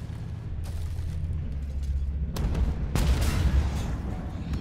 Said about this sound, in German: Oh, die Explosionen von den Gegnern